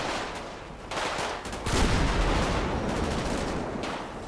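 Dense video game gunfire, rapid bursts and machine-gun volleys that start moderately and swell into a loud, sustained fusillade with no talking.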